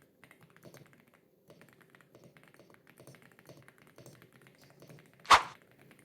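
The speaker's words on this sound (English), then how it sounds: "I preferred typing longer words all day with low-profile keyboards" Typing on a Kemove K98SE mechanical keyboard: light, quick keystroke clicks in short uneven bursts, close but quiet, with one louder sharp thunk near the end and no talking.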